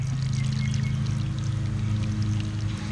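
Water pours steadily onto dry garden soil in a continuous rushing stream, close and even throughout, with no talking.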